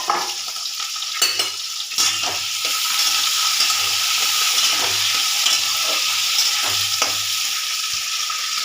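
Chopped onion, ginger and garlic sizzle loudly in hot oil in a pan, a steady close frying hiss broken by repeated scraping stirs and a few sharp clinks.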